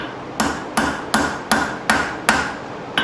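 A hammer forges steel into a knife from an old file, striking about eight sharp metallic blows at an even, steady pace, loud and close, with each ring briefly decaying before the next hit.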